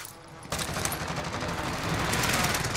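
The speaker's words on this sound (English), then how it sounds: "Allied precision airstrike incoming." Call of Duty Warzone airstrike and gunfire: a sudden loud onset of heavy explosions and rapid fire that stays thick and rumbling and swells toward the end.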